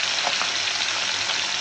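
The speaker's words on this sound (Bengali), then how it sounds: "সুরমা মাছ দিয়ে দিলাম তেলের মধ্যে।" Surma fish frying in hot oil in a home kitchen, giving a steady, dense sizzle with faint crackles throughout, close and continuous with no voices.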